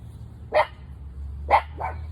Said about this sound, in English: It's just a doggy going by.